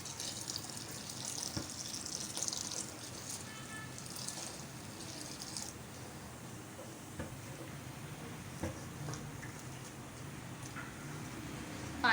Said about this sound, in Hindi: पानी मैंने इसमें शामिल कर दिया है।